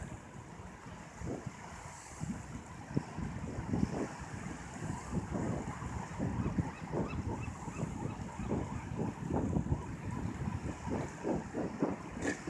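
Gusty wind buffets the microphone over rolling waves on a Pacific Ocean bay, a continuous rough rumble with irregular bursts, no voices.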